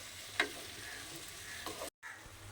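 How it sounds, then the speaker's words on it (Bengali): Shredded cabbage is stirred with spices in a hot pan, a soft steady sizzle with a few scraping clicks of the spoon, faint and close, with no talking. "এবার বাঁধাকপিটাকে মশলার সঙ্গে খুব ভালোভাবে মিশিয়ে নিতে হবে"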